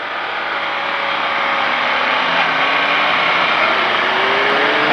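A motorcycle on a race circuit at Bresse, its engine accelerating with a loud, steady rising whine and roar that holds for about five seconds, alone without talk.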